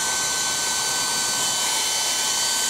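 A Philips Active Cool 1650 HP3462 hairdryer blows on its cold setting, a loud, steady, close-up whooshing hum with a constant motor whine and no talking.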